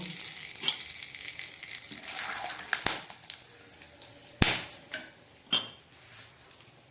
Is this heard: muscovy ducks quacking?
no